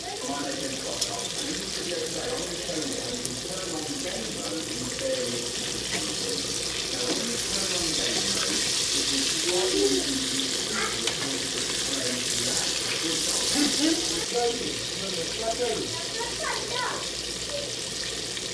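Chicken pieces frying in hot oil for a crispy, golden KFC-style fried chicken give a steady, dense crackling hiss that carries on without a break and swells slightly near the middle.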